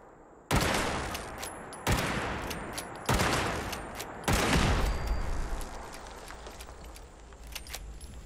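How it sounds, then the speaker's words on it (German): Gun turrets firing in the video game Fallout 76: four loud, sharp bursts of gunfire spaced about a second apart, each trailing into a rattling, echoing decay over a steady background hum. "Okay, hier ist alles voller Geschütze."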